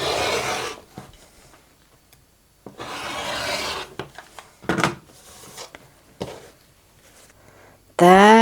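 Quilt fabric is trimmed with a cutting tool in short rasping strokes, several bursts of scraping with pauses between and a louder one at the end.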